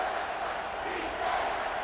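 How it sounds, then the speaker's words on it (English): Stadium crowd roaring in EA Sports College Football 25 during a Texas versus Michigan game, a dense, sustained wash of cheering voices that stays loud and steady across the moment. "This crowd knows they have to bring it in big moments"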